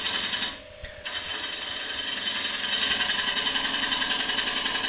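A wood lathe spinning a bowl blank at about 650 RPM for bowl turning, heard as a loud, steady mechanical whir with a rhythmic rattle that drops briefly near the start and then holds constant.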